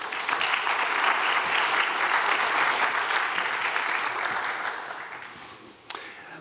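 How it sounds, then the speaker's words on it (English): Sustained audience applause fills a university state-of-the-university address, steady and full for several seconds before thinning and fading out near the end. "So give yourselves a round of applause,"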